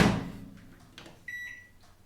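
A baking oven with a retro game cartridge inside is shut, with a dull thump, then a clear electronic beep sounds as it starts, close and fairly loud, with no one speaking.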